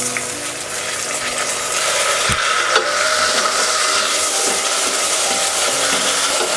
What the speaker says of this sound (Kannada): ಟೊಮೆಟೊ ಸ್ವಲ್ಪ ಸಾಫ್ಟ್ ಆಗೋವರೆಗೂ ಫ್ರೈ ಮಾಡ್ಕೋಬೇಕು